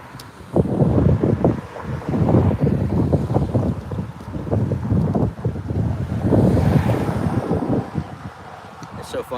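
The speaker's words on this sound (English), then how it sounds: "Windy, windy, windy." Gusty wind buffets a microphone outdoors at a honey-selling table, producing loud, rumbling roars that come and go in bursts, with a voice faintly underneath.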